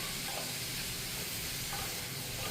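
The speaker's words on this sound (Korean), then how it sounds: "오이를 넣어주세요. 이렇게 해서 센 불에 볶으면 됩니다." Cucumber slices stir-fry over high heat in a pan, a dense, even sizzle and hiss held throughout, with faint stirring and no talking.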